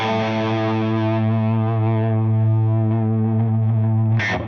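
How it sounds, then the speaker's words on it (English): An electric guitar played through a distortion pedal rings out as one sustained, heavily saturated note with a rich buzzing tone, loud and close, ending in a brief noisy scrape. "Just through the distortion pedal, you don't need another unit for that."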